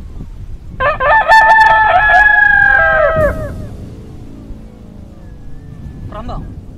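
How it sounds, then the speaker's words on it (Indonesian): A rooster crows once, loud and close, a long drawn-out call lasting about two seconds in a rural outdoor setting, followed by quieter background sounds. "Kalian dengar ayam ini berkokok?"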